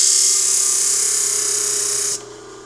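A small thunderegg stone piece is sanded at 180 grit on a powered sander, giving a steady, loud, high-pitched grinding whine that holds evenly and then drops away near the end.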